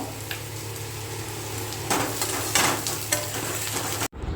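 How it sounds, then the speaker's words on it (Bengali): Rice with pointed gourd (potol) frying in a pan, a steady sizzle broken by a few louder scraping stirs near the end before an abrupt cutoff; no talking. "দেখো চালের সাথে এবার পটলটা আমরা ভালো করে ভেজে নিয়েছি"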